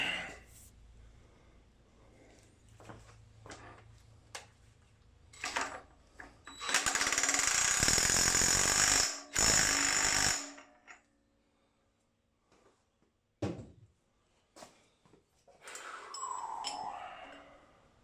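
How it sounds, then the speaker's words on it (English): A Harbor Freight air wrench fits a power steering pulley on a 1988 Ford F250, firing in two loud sustained bursts near the middle amid clinks and handling noises. "what we're going to try to do is get this on with an air wrench"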